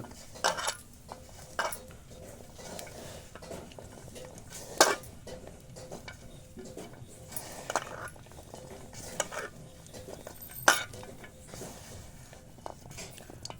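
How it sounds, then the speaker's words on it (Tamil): Gram flour pakoda batter with onions is stirred in a bowl, producing soft wet sloshing with scattered utensil clinks and taps at an uneven rhythm, close but fairly quiet. "மாவு எல்லாம் நல்லா மிக்ஸ் ஆகி வெங்காயத்தோடு கலந்து வர அளவுக்கு நல்லா கிளறி விட்டுக்கோங்க"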